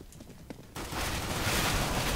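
Dense, loud gunfire from Counter-Strike: Global Offensive bursts in after a few faint shots, becoming a continuous roar of overlapping fire that fills the rest of the moment.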